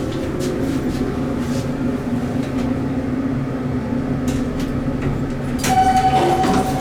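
A modded hydraulic glass elevator's motor drones steadily as the car rises, a loud, continuous hum with a brighter whine joining near the end.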